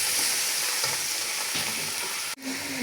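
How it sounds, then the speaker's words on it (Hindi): Two kilos of chicken frying in a pan for a dhaba-style karahi, a loud continuous sizzle with occasional stirring scrapes and a sharp clatter near the end. "मैंने लिया जी 2 किलो चिकन, इसको मैं हल्का सा कर लेते हैं जी फ्राई।"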